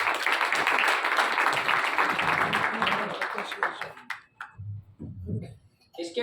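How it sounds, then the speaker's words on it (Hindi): An audience applauds in a dense burst of clapping for a few seconds, then it fades into scattered claps and murmuring voices. "तालियां बजाओ।"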